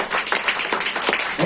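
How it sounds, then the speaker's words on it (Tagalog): Congregation applause at a church service, a short burst of dense clapping that fills the space, moderately loud with no talk over it. "Malakas nga na palakpak sa Diyos."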